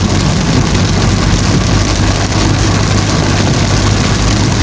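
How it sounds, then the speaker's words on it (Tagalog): Dense, roaring rain drums on a moving van on the old zigzag road between Batangas and Quezon while a low engine rumble hums underneath, loud and continuous throughout. "lakas ng ulan."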